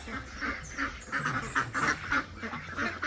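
Free-range ducks quack repeatedly in a lively, overlapping chorus close by, a steady run of nasal calls with no pauses.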